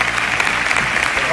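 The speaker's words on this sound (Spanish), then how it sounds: "José Castro, un aplauso para el presidente." A crowd at Sevilla FC's 130th anniversary celebration applauds its club president with dense, steady, loud clapping.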